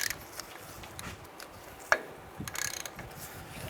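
A ratchet backing off a 27 mm front inner wheel bearing nut on a 1992-1996 Ford F-150, heard as quiet, close clicking pawl strokes with one sharper metallic tick.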